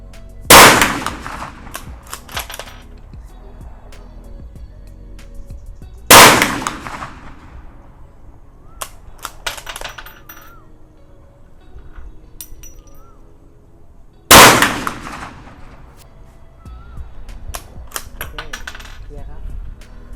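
Three loud Ruger 77/44 rifle shots fired at a 50-metre range, spaced several seconds apart, each a sharp blast followed by a brief ringing decay, with quiet handling noise in between.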